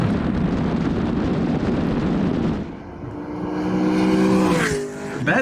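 Ford Mustang 3-valve overhead cam V8 with a six-speed manual revving loudly, a dense roar that drops off, then rises in a climbing rev before easing back.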